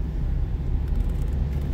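A car rolls slowly along a road in China, giving a steady, close low rumble with no voices.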